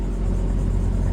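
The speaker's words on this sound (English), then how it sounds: "I don't know if you can hear me, this reefer in the background" A refrigeration reefer unit on a truck trailer runs steadily nearby, a continuous low rumbling whir with no breaks or voices.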